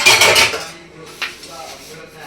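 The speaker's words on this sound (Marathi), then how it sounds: "तर आता भांडी घासून घेते पटापटा" Pots and dishes clatter and scrape as they are washed in a home kitchen, with a loud burst of clanking at the start followed by a single sharper knock and quieter rattling.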